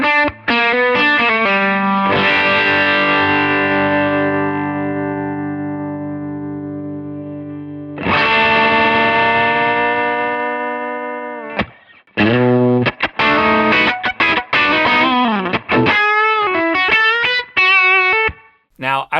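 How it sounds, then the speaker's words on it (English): Electric guitar through a Browne Amplification Protein overdrive pedal, with long held distorted chords ringing out, then a burst of choppy, rhythmic riffing with short stabs and gaps, loud and close with no talk. "It's a fantastic overdrive."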